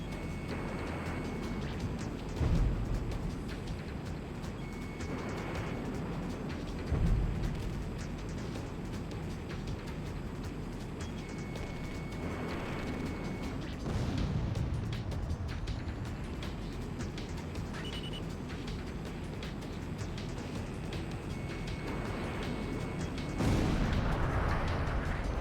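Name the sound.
explosions destroying ground targets in video game Ace Combat X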